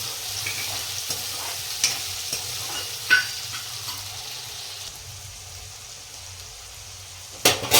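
Green garlic frying in oil in a pan for tuver totha, a steady sizzle with a spoon stirring through it and a few sharper scrapes and clinks, close and alone with no talk.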